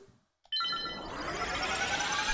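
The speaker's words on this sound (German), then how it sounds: "Telefonieren kurz mit Opa." A telephone rings in The Legend of Zelda: Link's Awakening, a steady electronic game-style ring that starts abruptly after a brief quiet moment and carries on continuously, with no voices.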